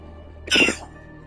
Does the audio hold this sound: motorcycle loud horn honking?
no